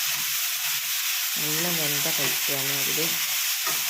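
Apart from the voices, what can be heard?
water sizzling in pan while frying bitter gourd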